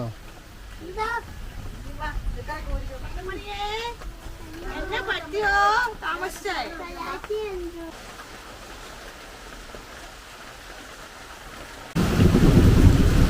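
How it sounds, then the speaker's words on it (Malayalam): Heavy rain hisses steadily while voices talk, then a deep, loud rumble of thunder rolls in close at the end. "നല്ല ഇടിയും മഴയുവാ."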